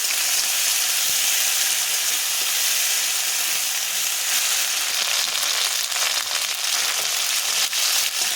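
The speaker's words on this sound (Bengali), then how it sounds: "মশলাটা ভাজা ভাজা হয়ে গিয়েছে" Ginger and cumin paste frying in a pan for a pumpkin, potato and drumstick curry, giving a steady, loud sizzle and hiss that runs the whole time with faint stirring scrapes and no talking.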